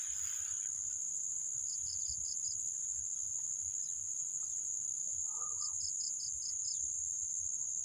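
Insects buzz in a rice field where grasshoppers swarm, a steady high, faint drone with two short bursts of rapid chirps and a brief distant bird call.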